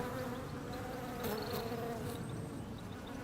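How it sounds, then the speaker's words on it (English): Hundreds of bees work a lavender bed in a garden, a continuous, fairly quiet droning hum with individual insects passing close by, and no one talking. "Just look at that lavender, it's teeming with bees."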